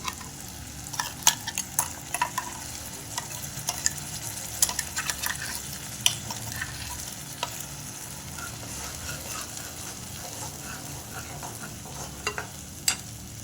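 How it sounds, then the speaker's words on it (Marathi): Onion-garlic masala paste fries in a pan with a steady low sizzle, while a spoon stirs and scrapes in frequent irregular clicks and taps throughout. It is close by, with no voices. "आपला मसाला बघा चांगला परतलेला आहे."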